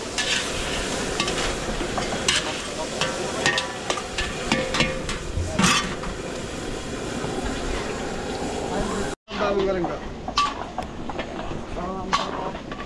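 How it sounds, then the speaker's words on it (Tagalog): Garlic fries in a pan for spicy wings at a large catered event in San Antonio, Zambales, sizzling steadily while a utensil stirs and scrapes, with busy kitchen clatter throughout. "nag-fry na tayo ng garlic"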